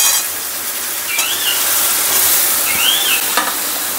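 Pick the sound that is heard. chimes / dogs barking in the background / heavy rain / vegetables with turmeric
vegetables with turmeric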